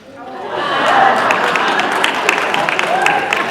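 Conference audience clapping in a hall, applause swelling after a quiet start and holding steady, with some laughter and chatter mixed in.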